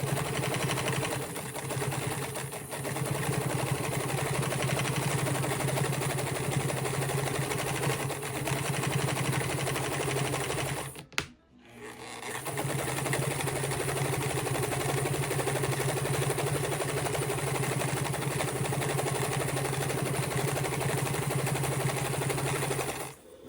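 A PFAFF 230 Automatic sewing machine runs a zigzag stitch, its steady motor whir and needle clatter continuing close and loud, broken by a brief stop midway before resuming.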